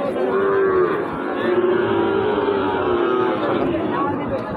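Cattle, including Sahiwal bulls, at a crowded livestock market, one long, loud, close moo sliding in pitch and stretching across most of the moment, with a murmur of people's chatter underneath.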